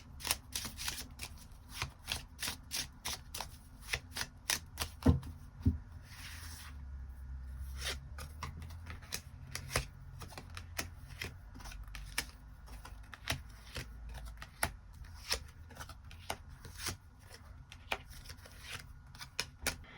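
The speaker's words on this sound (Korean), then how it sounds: "추가 카드 뽑아보도록 하겠습니다" Tarot cards shuffled in steady riffling bursts for the whole stretch, crisp and close, with soft rustles and occasional table taps between; no talking.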